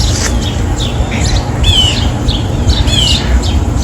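Cardinals call outdoors in the snow with a scattering of short, sharp chirps and squawky notes over steady low background rumble.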